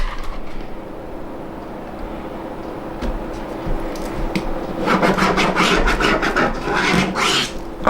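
A line traced on the wrong side of fabric in a home sewing project, heard as a scratchy rasping that starts quietly and grows to louder back-and-forth strokes over a low background hum.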